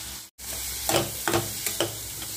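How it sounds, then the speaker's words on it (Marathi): Chopped onion with garlic and green chili sautéing in oil in a pan, a steady close sizzle broken by a few quick spoon stirs, with no talking. "कांदा छान तेलामध्ये परतून घ्यायचा"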